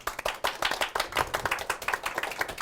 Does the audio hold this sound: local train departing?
no